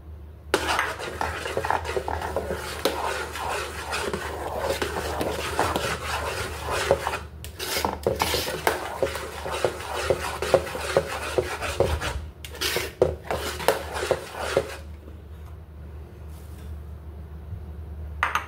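An ingredient is worked little by little into honey rice, producing a steady scraping, rubbing stir in a bowl. The sound runs continuously for several seconds with short pauses, then fades to quieter scrapes.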